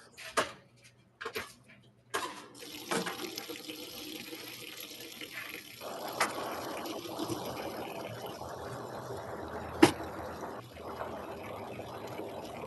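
A washing machine fills with water for a rinse cycle: a few clunks and clicks at first, then a steady faint rush of flowing water with one sharp knock partway through.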